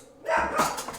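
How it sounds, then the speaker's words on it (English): A dog barks once loudly and close, a short sharp burst that trails into a yelp. "That dog is out of control."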